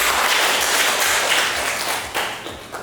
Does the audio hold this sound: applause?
yes